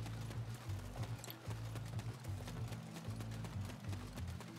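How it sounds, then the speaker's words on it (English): A horse named Chestnut in the Attack on Titan video game trots with a steady, rapid clip-clop of hooves, even and continuous under a low rumbling game background. "He is our reliable steed."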